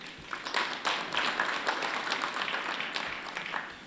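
Applause from an audience at a speech about paying off the foreign exchange backlog, a steady dense clapping that fills the whole stretch at moderate loudness with no voice over it.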